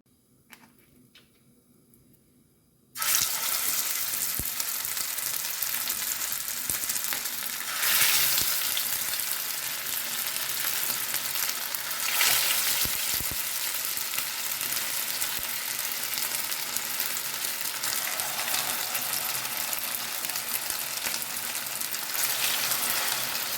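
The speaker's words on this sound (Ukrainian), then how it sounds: "зараз буду смажити їх на сковорідці" Steady, loud sizzling of meat patties (kotlety) frying in a pan, a continuous crackle that starts abruptly after a few quiet seconds and carries on throughout.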